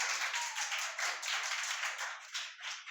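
A rapid series of light, uneven hand claps, close and alone, performed in imitation of the way a child claps.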